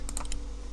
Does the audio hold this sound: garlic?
no